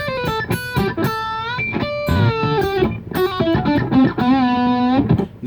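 A 2017 Sterling JP150 electric guitar in Neptune Blue played on its bridge pickup through a small Boss pedal preamp, dry with no reverb or delay, giving clear, punchy sustained notes and bends in a short melodic phrase, close and loud with no talking.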